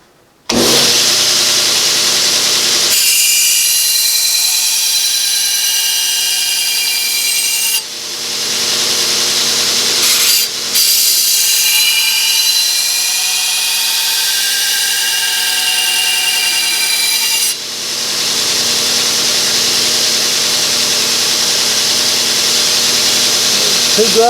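A steel ulu knife blade is ground on a power grinder in two long, loud passes, each a sustained harsh whine lasting several seconds, separated by a short pause, with a quieter motor hum running between the grinds.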